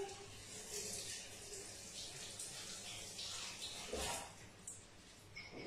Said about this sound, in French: je vais simplement déjà rincer une première partie de mes herbes